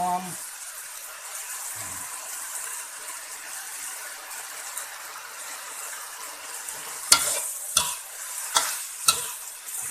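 Pork belly stir-fried with holy basil leaves and dried chillies sizzles steadily in a pan, then several loud clanking, scraping stirs ring out close by near the end.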